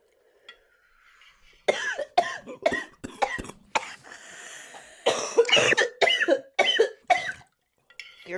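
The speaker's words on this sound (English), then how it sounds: "both of us are coughing into the mic" Two people cough repeatedly and clear their throats close to a microphone, a series of harsh, irregular bursts with short pauses between them.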